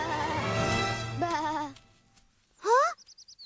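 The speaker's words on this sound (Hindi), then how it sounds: "अरे, वो मेरी भेड़ें हैं।" Cartoon sheep bleat in a short wavering cry after a stretch of busy background sound, followed by a quick run of high, rhythmic bleats.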